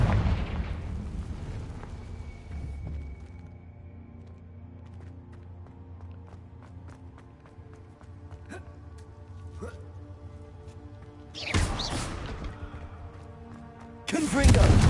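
Blasting-curse explosions from the Hogwarts Legacy game, a rumbling boom early on fading into a long low tail with scattered crackles, then two sharp loud bursts near the end; a voice speaks over parts of it.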